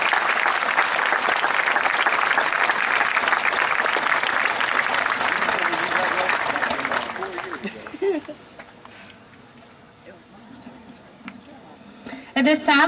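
Large crowd applauding at a 2017 Haleyville high school commencement: dense, loud, steady clapping that fades after several seconds into quieter room noise with scattered sounds.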